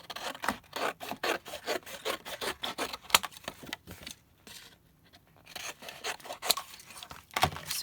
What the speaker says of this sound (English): I want to trim these edges off because the edges just need to be thrown away.